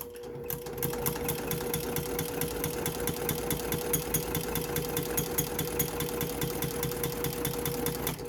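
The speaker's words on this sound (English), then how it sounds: "then we put it under the machine and we're going to sew straight across on that line" A sewing machine stitches straight across a quilt binding strip, a steady loud rapid mechanical chatter running continuously and alone throughout.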